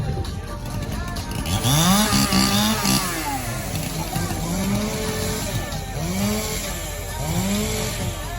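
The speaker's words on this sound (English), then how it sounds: "Warm up your saws, gentlemen." Several chainsaws rev and warm up together before an Intermediate Canadian Championship obstacle pole event at the 2025 North Island Summer Festival, their engines repeatedly rising and falling in pitch with loud, overlapping buzzing and a voice faintly underneath.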